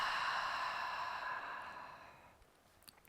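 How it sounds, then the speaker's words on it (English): A single slow, long exhale through the mouth during a breathing exercise, close and breathy, tapering off gradually into quiet. "And then exhale through your mouth twice as long."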